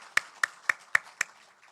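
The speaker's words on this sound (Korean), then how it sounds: "이 모든 분들 우리 축복하며 박수하십시다" Five sharp, evenly spaced claps ring out in a church during a New Year's Day Sunday worship service, a steady rhythmic beat at moderate loudness with no talk over it.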